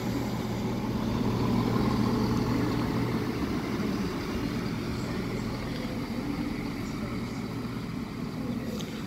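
Steady low diesel engine rumble of a Northern Trains Class 170 passenger train idling and rolling into Doncaster station, continuous and fairly close, with no voices.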